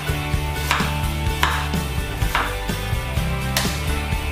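Knife slicing ginger on a cutting board, in a kitchen making braised three-cup king oyster mushrooms, with about four sharp chopping strokes spaced roughly a second apart over a steady background hum.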